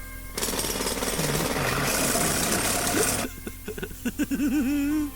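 A loud road drill hammers steadily for a few seconds, then cuts off, leaving an engine-like rumble and a brief voice.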